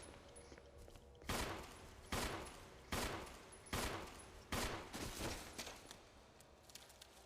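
Gunfire in the video game Resident Evil Remake, six loud evenly spaced shots with ringing decay, each about a second apart, over a quiet game background.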